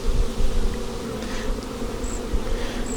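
Honeybees buzzing around hive frames while nucs are transferred into walkaway splits, a dense close hum of many bees swarming steadily, loud and continuous with no talk.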